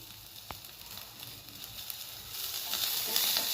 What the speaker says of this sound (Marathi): यामध्ये लसूण परतून घ्यायचं